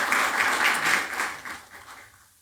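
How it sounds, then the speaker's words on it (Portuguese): Church congregation applauding during a worship service, a thick burst of clapping that stays strong, then thins and fades away over a couple of seconds, with no speech on top. "Vamos aplaudir o Senhor mais uma vez?"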